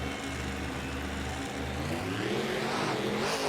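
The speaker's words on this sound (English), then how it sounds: "They are off the line, heading down the straight and into turn 1." Racing monster trucks launch off the starting line at an Indianapolis event, with a loud, steady engine roar that swells and rises in pitch as they accelerate away.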